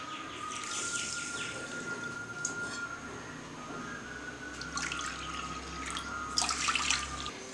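Water for sugar syrup is poured into a vessel, three cups measured out: a soft, continuous trickle and splash with faint bird chirps in the background.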